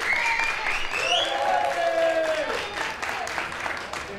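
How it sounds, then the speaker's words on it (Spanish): Applause for student teachers at a school gathering, a crowd clapping steadily while voices and whistle-like tones rise above it, easing slightly toward the end. "Así que es un aplauso"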